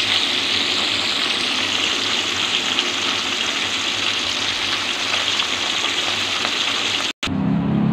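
A marinated tilapia steak, seasoned with soy sauce and calamansi, fries in a pan with a loud, steady hiss and crackle that runs unbroken before cutting off abruptly near the end.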